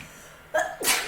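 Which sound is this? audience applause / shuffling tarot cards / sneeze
sneeze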